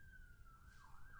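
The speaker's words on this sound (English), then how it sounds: "That's a siren" A faint emergency-vehicle siren wails briefly in the distance, its tone sliding gently up and down over a low background rumble, with no voices.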